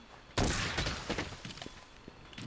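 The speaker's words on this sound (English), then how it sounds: "If we shoot this, it goes through and hits the barrel as well." A light bowgun in the Monster Hunter World video game fires pierce ammo that punches through and strikes a barrel: one sudden loud blast, then a scatter of thuds and crackling impacts that quickly fade.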